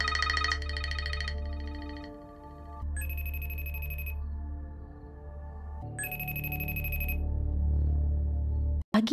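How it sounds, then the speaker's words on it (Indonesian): A mobile phone rings repeatedly at night while someone sleeps, bright electronic ringtone bursts recurring over a low sustained background score, with no talk. "ponselnya berdering berulang kali"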